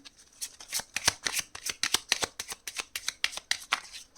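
Tarot cards shuffled by hand, a rapid run of crisp riffling flicks in a quick regular rhythm, close and clear with no talking.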